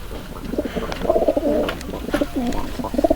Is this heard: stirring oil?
no